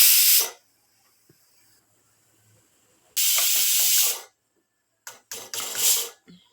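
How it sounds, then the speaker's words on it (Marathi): Steam hissing from a pressure cooker or pot during home cooking of chole and rice, coming in three loud bursts, the last one broken and sputtering, with quiet gaps between them. "वाफ काढली."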